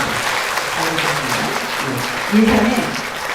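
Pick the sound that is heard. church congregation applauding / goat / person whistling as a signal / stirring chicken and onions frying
church congregation applauding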